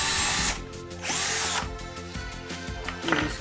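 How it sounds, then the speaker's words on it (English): A power drill bores holes into wood while building a compact wooden PC case, loud whining bursts starting and stopping over a steady background hum, close by with no talk. "now we're going to drill the holes"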